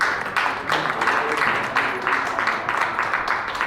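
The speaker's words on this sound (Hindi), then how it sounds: "मैं चाहूँगा उस शख्स का आप तालियों के साथ स्वागत करें" An audience applauds in welcome as a speaker is called up, a steady wash of clapping holding at moderate loudness throughout with a few sharper bursts and no talk over it.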